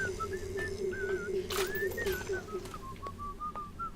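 Whistling of a 1930s-style tune in the video game BioShock, a clear melodic line of short and gliding notes, with a few sharp knocks and a low rumble underneath.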